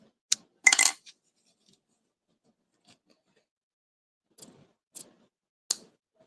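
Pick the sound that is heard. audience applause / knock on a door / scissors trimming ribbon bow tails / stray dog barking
scissors trimming ribbon bow tails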